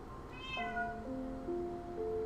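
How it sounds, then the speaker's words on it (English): Pet cat screaming: a few drawn-out, wavering yowls rising and bending in pitch, fairly faint and close, one after another with brief breaks over a quiet room. "Did you guys hear my cat?"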